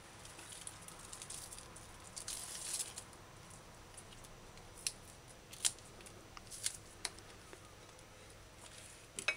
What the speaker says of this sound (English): Now, use a knife and cut off ends.